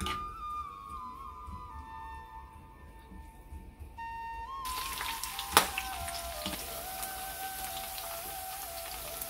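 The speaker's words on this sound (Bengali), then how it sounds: "এই রসুন এবং পেঁয়াজটা একটু বেশি করে ভাজতে হবে, যাতে ব্রাউন কালার হয়" Garlic and onion fry in oil for a tempering, giving a soft crackling sizzle that turns fuller and louder halfway through, with a sharp pop near the middle and a faint whistle-like tone early on.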